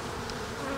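A honeybee colony drones in a dense, steady buzz while its hive is being broken apart outdoors, the hum loud and unbroken over a short moment.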